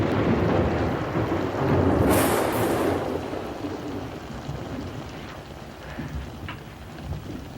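Loud thunder rumbles over steady heavy rain, with a bright crack of thunder early on, then continuing rain and distant rolling.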